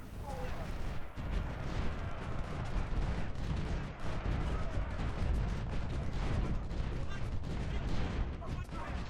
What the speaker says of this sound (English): all of my long-range guns are firing at artillery